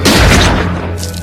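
A gunshot in a zombie survival film, a loud, close, booming blast with a long rumbling tail that fills the short moment, with no speech.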